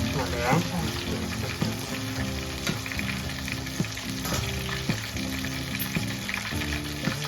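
Large chicken pieces frying in a pan, a dense continuous sizzle with spitting pops and occasional stirring scrapes, loud and close throughout.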